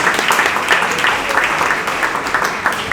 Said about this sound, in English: now you may applause the two lovely ladies